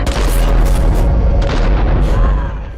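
A gunshot rings out during an episode of The Last of Us, a deep booming report amid loud, dense action noise that carries through the whole stretch, with faint talk underneath.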